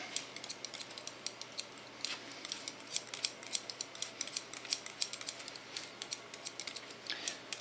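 Scissors snip steadily through a man's hair during a makeover cut, close up. The crisp clicks come in quick, uneven bursts with no pause and no talking.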